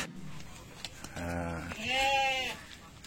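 Texel sheep, a heavy breed around 70 to 80 kilos, gives two close, loud bleats in quick succession, the second longer and wavering, with faint background noise between.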